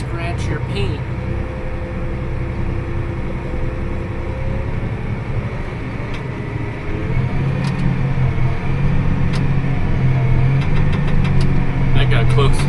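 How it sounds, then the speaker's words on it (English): A water truck rumbles along a road close by, a steady mid-pitched engine drone that grows louder and deeper as it draws near in the second half, with faint clicks over the top. "Nothing like water truck taking up half the road."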